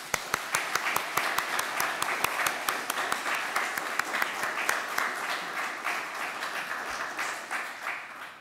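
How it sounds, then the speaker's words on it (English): An audience at a results-sharing event applauds with a steady roll of clapping and some sharp, distinct claps nearby, continuing evenly before tapering off. "Give yourselves a big clap"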